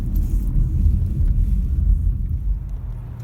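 A car in Memphis rumbles low and steady at close range as it is parked, with no other sounds and no talking.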